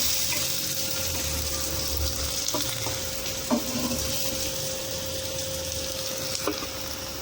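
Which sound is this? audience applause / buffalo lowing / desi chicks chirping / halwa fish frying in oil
halwa fish frying in oil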